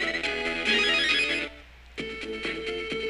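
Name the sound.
giant speaker ringing in the video game Mega Man Battle Network 4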